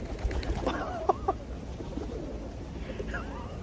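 Pigeons coo close by while one perches on a person's shoulder outdoors at Matsumoto Castle in Japan, soft scattered calls over a busy background murmur.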